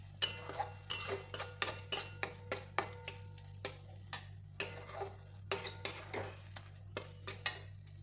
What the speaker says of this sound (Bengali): ততক্ষণ এইভাবেই নেড়ে যেতে হবে